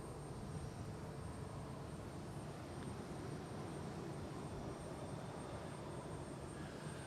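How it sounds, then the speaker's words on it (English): A private jet at Boston Logan International Airport roars steadily from fairly close, a dense continuous engine rush with a thin high whine on top, holding level throughout with no talking. "There's that jet right there."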